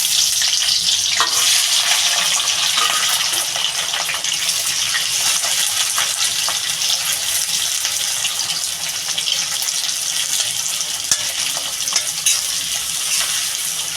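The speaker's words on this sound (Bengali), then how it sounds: "তেলটা বন্ধুরা গরম হয়ে গেছে আমি এই যে পেঁয়াজটা দিয়ে দেবো" Sliced onion dropped into hot oil for a rohu fish curry, a loud, steady, close sizzle and crackle holding evenly throughout with no voices.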